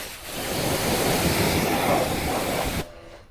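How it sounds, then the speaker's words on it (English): A water spray rinses a car's wheel rims during detailing, a loud, close, broadband hiss that holds steady for nearly three seconds and then cuts off abruptly, with no talking. "I'm just gonna give one more rinse shot."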